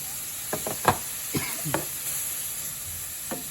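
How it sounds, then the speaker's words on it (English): Tofu and a splash of marinade sizzle in a pan during a no-oil tofu scramble, a soft steady hiss with several sharp knocks and scrapes of a utensil nudging the pieces around. "Get the tofu into the pan and put in just a little bit of the marinade to get it cooking"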